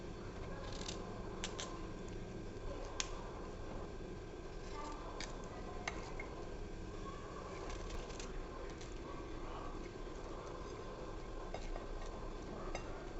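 Chopped cauliflower fries in a pan for a Mizo recipe, with a steady low sizzle under scattered metallic scrapes and taps of stirring, faint and continuous, without speech.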